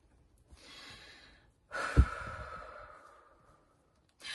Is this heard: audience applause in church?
no